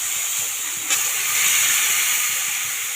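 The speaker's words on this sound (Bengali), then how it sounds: "এবার আমি জল দিয়ে দেবো।" Water splashes into a hot pan of spicy green banana and shing fish curry, setting off a loud, steady steam hiss and sizzle that holds for the whole few seconds.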